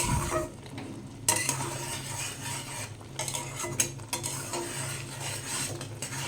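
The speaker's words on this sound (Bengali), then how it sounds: "এবার একটু আমি নাড়াচাড়া করে নেব।" Raw mango pickle with spices being stirred in a pan, with irregular scrapes and clinks of a spoon on metal over a light sizzle, close and without speech.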